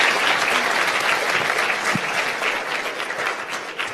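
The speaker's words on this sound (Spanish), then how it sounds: "Les pido un aplauso para nuestros panelistas." Audience applause for panelists at the close of a plenary session on water security, a steady wash of many hands clapping that holds fairly loud for the whole stretch without talk.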